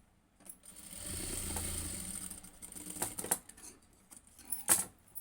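A sewing machine stitching cloth: short runs of quick mechanical clatter and ticking, broken by pauses and a few sharp clicks, heard close and fairly quiet with no voices.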